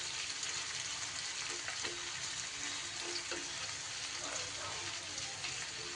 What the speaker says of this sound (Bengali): পেঁয়াজটা একটু ভাজা ভাজা হওয়া অবধি অপেক্ষা করব।